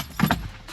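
Keys on a ring jangle in the ignition of an Audi TTS Limited Edition: a brief, close double clink lasting under a second.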